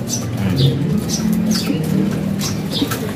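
Pigeons drinking water coo softly and steadily close by, with faint pattering and small rustles throughout.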